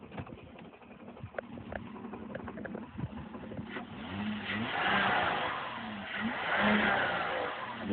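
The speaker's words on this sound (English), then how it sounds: "Try revving the gas up on it a little bit" A Lexus ES300 with a knocking noise and a noisy AC compressor runs at an auction, faint and muffled at first, then revving up in two swells in the second half.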